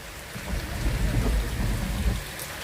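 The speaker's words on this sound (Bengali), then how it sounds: "এই দেখো বৃষ্টি হচ্ছে দেখো দেখেছো" Heavy rain pours steadily with a deep, rolling rumble of thunder underneath, loud and close throughout.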